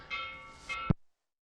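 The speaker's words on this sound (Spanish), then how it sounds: "perdón, es que la campana está sonando" A bell rings in two sustained, ringing bursts close by, then cuts off abruptly with a dull thump, followed by silence.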